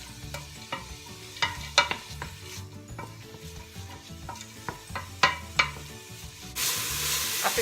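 Onion frying and stirred in a pan for a beef rendang, with a spoon scraping and knocking against the metal in irregular clicks over a steady sizzle that swells louder and hissier near the end; no one talks.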